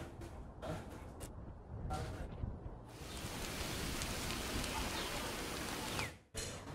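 Heavy rain falls as a dense, steady hiss during flooding in Rock Valley, Iowa, broken by a few short gaps before settling into a continuous wash, fairly faint overall.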